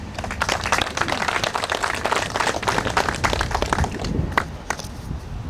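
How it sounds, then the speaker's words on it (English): An audience claps a round of applause for the MC at a county precinct groundbreaking ceremony for a road project, with dense, steady clapping that is fairly loud and lasts throughout, with faint voices mixed in. "Give him a big round of applause."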